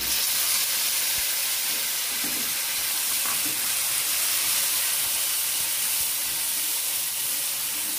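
Ginger, cumin, green chilli and garlic paste fry with onions in hot oil for a parwal dolma dish, giving a steady bright sizzle and hiss with faint stirring scrapes and no talk.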